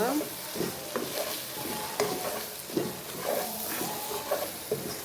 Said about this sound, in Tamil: இந்த கலவையை நல்லா மிக்ஸ் பண்ணுவோம்